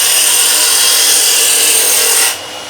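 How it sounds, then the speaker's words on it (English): A wood lathe spinning faster while a turning tool cuts into the wood, giving a loud, steady, hissing scrape that stays even for over two seconds before dropping off suddenly near the end. "The tools will start cutting a lot easier."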